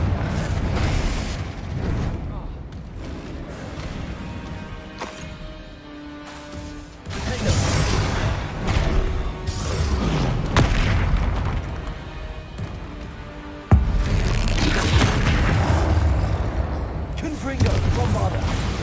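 Confringo fire-spell blasts in the video game Hogwarts Legacy, a series of loud booming explosions and crashes with rumbling bursts over several seconds, mixed with game sound and someone talking.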